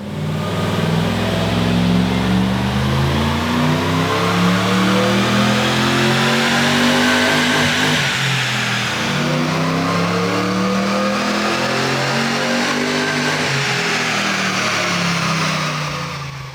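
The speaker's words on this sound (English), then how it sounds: "the Nismo-inspired Patrol sounds awesome with that full exhaust system, and Ben's run it up on the dyno." A supercharged, Nismo-inspired Nissan Patrol with a full exhaust system revs hard on a dyno, its loud engine note sweeping up and falling back in two long runs, close and unbroken.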